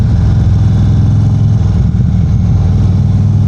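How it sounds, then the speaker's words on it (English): An Indian Sport Chief cruiser motorcycle on its factory exhaust burbles steadily on deceleration, a loud, close, continuous low rumble with no voices. "Little burble on the decel, and this is factory exhaust"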